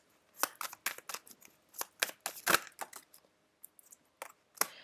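Quick, crisp riffling and slapping of tarot cards being shuffled, a series of short papery bursts in uneven rhythm with brief pauses, close by and moderately loud.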